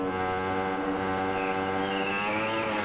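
A superbike engine whines loudly and steadily on the Isle of Man TT course in Ride 3, its harmonic drone shifting pitch as it slows with a faint rising squeal near the end.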